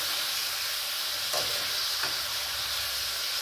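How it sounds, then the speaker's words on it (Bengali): Hilsa fish frying with spice paste in a pan, a close, continuous bright sizzle with a couple of soft scraping stirs. "এবার আমি মাছের সঙ্গেই মশলাটাকে কষাবো"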